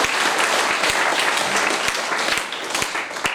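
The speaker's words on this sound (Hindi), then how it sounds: "एक बार उन्हें जरूर तालियां उनके लिए।" Loud, close applause from an audience at a literary conference honouring a poet, dense and sustained, with sharp individual claps cutting through the steady roar throughout.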